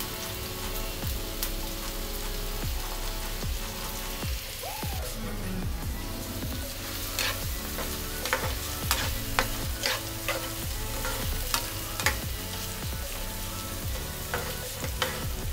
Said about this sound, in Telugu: ఆనియన్స్ పచ్చిమిర్చి వేసుకుందాం. ఉల్లిపాయలు వేగడానికి సాల్ట్ వేసుకుందాం.